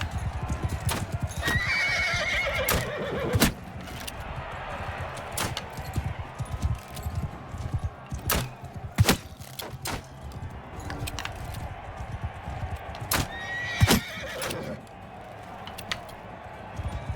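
Horses in a Mount & Blade 2: Bannerlord battle whinny and neigh over repeated clip-clop of hooves, with sharp impacts cracking at intervals through a busy background of combat noise.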